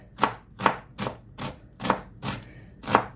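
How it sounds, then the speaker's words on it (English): A knife chops through an onion on a board in seven distinct, evenly spaced thuds, close and fairly crisp, with no talking. "So next thing up is the onion. I'm just going to cut that in half and then just chop this like that and chop."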